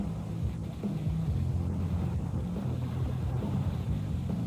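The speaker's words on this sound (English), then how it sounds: "Only one custom motorcycle in the world can cruise like this." Low, steady rumbling engine drone of a Honda Valkyrie motorcycle cruising, its six-cylinder, six-carburetor 1,520 cc engine, with wind noise and no breaks.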